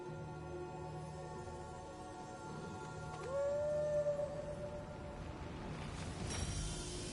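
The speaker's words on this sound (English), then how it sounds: "That was such an exaggerated howl from Torgal." Wolf companion Torgal in the video game Final Fantasy XIV lets out a single long, rising-then-falling howl near the middle, standing out loudly over a steady background of ambient game music and noise.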